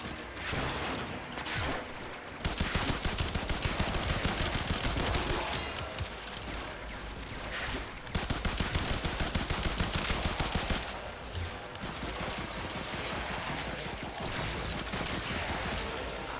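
Rapid, dense automatic gunfire in Warframe, a sustained firefight with bursts of shots rattling almost continuously throughout, crisp and fairly loud against a busy combat backdrop.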